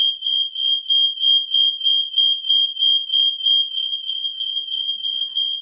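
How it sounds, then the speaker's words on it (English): A smoke alarm beeps insistently: a piercing high tone pulsing in a rapid, steady rhythm, loud and close, with nothing else heard. "Smoke alarm's going off"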